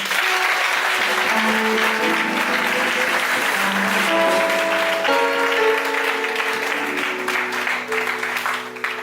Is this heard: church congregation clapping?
yes